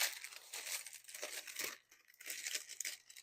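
Tart pastry cut into a circle, a soft crinkly scraping in short uneven strokes with a brief pause midway, close and quiet.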